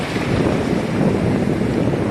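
Steady rushing wash of water onto a shore, broad and continuous, with wind buffeting the microphone throughout.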